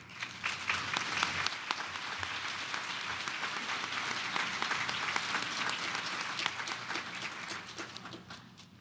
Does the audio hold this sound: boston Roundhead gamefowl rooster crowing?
no